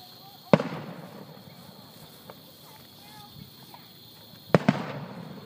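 Two distant fireworks bursts with sharp cracks a few seconds apart, outdoors at night over a steady background hum, with people talking quietly nearby.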